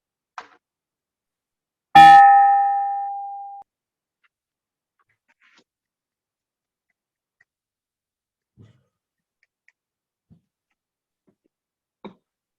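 A single bell is struck once at a Rotary club ceremony, a bright ringing tone that decays over about two seconds, followed by quiet with only a few faint clicks and knocks.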